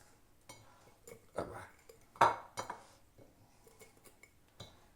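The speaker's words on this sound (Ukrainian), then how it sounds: "Так що наповнюємо баночку огірочками" Cucumbers are packed into a glass jar for garlic pickles, giving scattered light clinks and knocks of glass and vegetables at an irregular pace in a quiet room.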